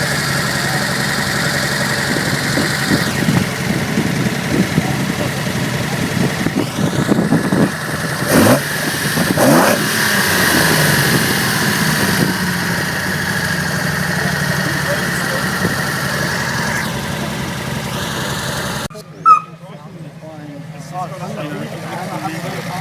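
A Nissan Datsun L30 straight-six running triple 44PHH Mikuni carburettors idles loudly and close, a steady rumble that stumbles slightly mid-way before the sound cuts off abruptly near the end.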